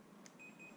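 A faint, thin electronic beep tone from a Daikin air conditioner during a fault-code check, a short chirp followed by a sustained quiet high tone in a quiet room.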